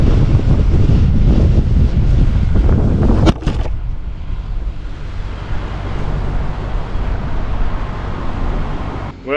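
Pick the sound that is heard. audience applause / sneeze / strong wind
strong wind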